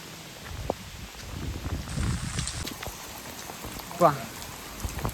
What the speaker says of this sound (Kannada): ಕಾಮಿಡಿ ಅಂದರೆ ಮಳೆ ಮಾತ್ರ ಬಿಡ್ತಾನೆ ಇದೆ ಕಂಟಿನ್ಯೂಸ್ ಆಗಿ.